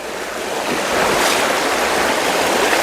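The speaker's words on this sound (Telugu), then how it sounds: "రాత్రి భారీ వర్షం పడింది ఈ ప్రాంతంలో అందుకనే ఇట్లా వాటర్ వస్తుంది" Floodwater from heavy overnight rain rushing down a forest stream near Bijapur, a steady broadband roar of turbulent water that swells slightly after the first second and holds loud and close, with no voices.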